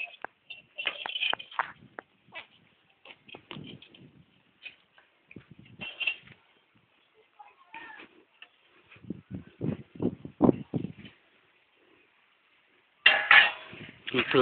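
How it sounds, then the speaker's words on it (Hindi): Dishes and metal utensils being scrubbed and washed by hand at home, with scattered clinks, scrapes and clatters coming in bursts and pauses, plus a louder rattling clatter near the end. "बर्तन मांजता हुआ"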